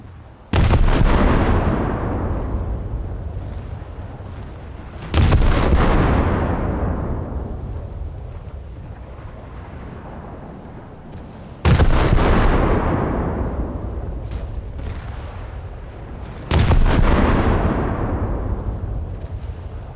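Four heavy tank cannon shots in War Thunder boom loud and close at irregular intervals, each blast followed by a long rumbling decay that trails off before the next.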